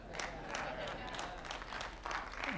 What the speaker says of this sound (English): I got like four people clapping their hands.